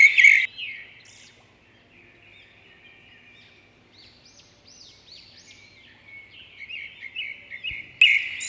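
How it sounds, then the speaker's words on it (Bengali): A sulphur-crested cockatoo in a mini zoo enclosure at Eco Park, Newtown, gives harsh, raspy screeches at the start and again near the end. Fainter chirping and squawks fill the quieter stretch between, with no talking. "এরপর দেখতে পেলাম হলুদ কাকাতুয়া, যার ইংরেজি নাম সালফার ক্রেস্টেড ককাটু।"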